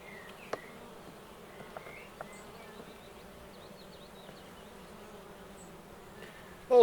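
Honey bees hum softly and continuously across an older, repaired comb inside a hive, with a few faint clicks and a brief knock at the very end.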